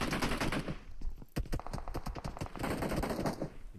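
Rapid automatic gunfire from a battle royale shooter game, including a UMP submachine gun, in a competitive tournament match: bursts of sharp repeated shots, fairly quiet, dense clusters after a short pause, with no speech over them.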